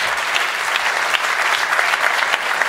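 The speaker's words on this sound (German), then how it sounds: "Schon mal so laut einen Applaus gehabt nach einer Vorlesung?" A crowd at a science slam claps loudly and continuously after a lecture-style talk, a thick even wash of hands with no speech on top.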